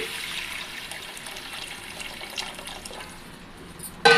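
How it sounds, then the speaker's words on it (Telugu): Tamarind extract poured into a cooking pot for a fish curry, a steady watery splashing stream that runs for a few seconds before a brief clatter at the end, with no talking. "మనము ముందుగా కలిపి పెట్టుకున్న చింతపండు పులుసుని ఇందులో పోసుకోండి"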